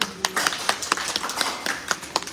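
A small group at a charity society gathering in Ludhiana claps by hand in scattered, uneven bursts. The claps are sharp, close and fairly sparse, with a faint voice briefly underneath.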